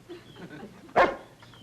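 A single short dog bark, sharp and fairly close, after a moment of quiet room tone, from the 1960s sitcom My Favorite Martian.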